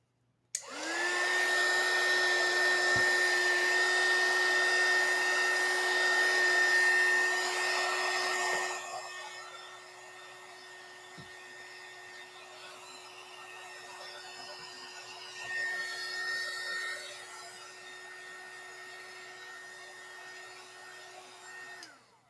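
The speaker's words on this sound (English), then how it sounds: "you could blow it dry, which I could because the blower is right here." A hair dryer blows gel marker ink dry, starting with a sharp click into a loud, steady, close-up whine that drops to a softer, lower setting partway through and runs on until switched off at the end.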